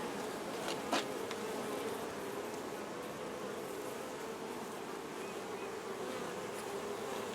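Honeybees swarm around an open frame lifted from a big hive, making a steady, dense, close buzzing hum with one brief louder knock near the start, no voices.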